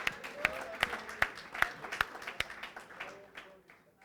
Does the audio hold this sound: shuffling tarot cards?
no